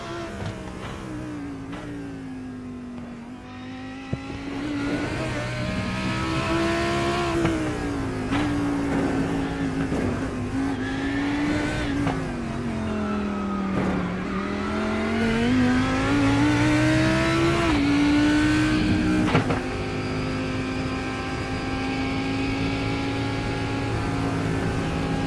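GT3 race car engine heard onboard at Sandown in iRacing, a loud sustained howl with pitch climbing through gears and dropping on downshifts, steady and continuous with no talk.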